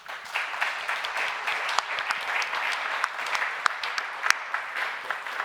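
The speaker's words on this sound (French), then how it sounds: "le professeur Thierry de Montbrial et de toute son équipe que je vous prie d'applaudir." A conference audience at a final debate session claps steadily for several seconds, a dense even patter of many hands at moderate distance, with no voices heard.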